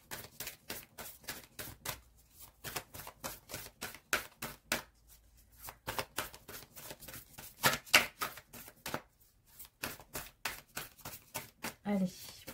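Tarot cards being shuffled in a steady run of crisp riffling snaps, close and fairly loud, with a few brief pauses and someone speaking French over parts of it.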